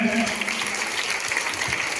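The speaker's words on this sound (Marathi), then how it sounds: "आपण आपल्या विद्यार्थ्यांसाठी एकदा टाळ्या वाजूया" A crowd at a tree-planting community event in Latur claps for students, a steady wash of many hands close by, with a voice briefly audible over the start.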